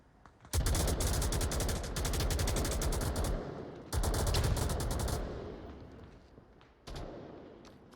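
Heavy automatic gunfire in the VR shooter Onward, pre-firing across an angle in long rattling bursts: two sustained volleys, close and loud, then a shorter burst after a brief lull.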